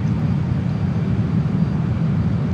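A JAS-39 Gripen fighter jet engine spooled up toward takeoff power in Microsoft Flight Simulator, a loud, steady low roar with a broad rushing hiss, continuous and unbroken with no talk over it.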